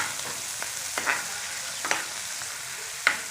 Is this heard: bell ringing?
no